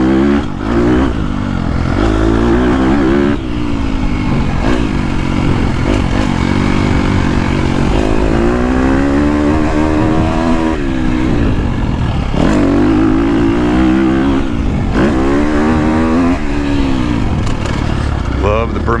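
A 2022.5 KTM 250 Factory Edition motorcycle on a GP track revs hard and close, its engine rising and falling in repeated pulls through the gears, with clattery mechanical noise throughout.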